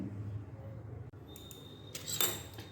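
Ingredients for a ripe mango pancake batter are gently folded in a bowl, with soft scraping and then light clinks of a spoon against the dish, faint and close.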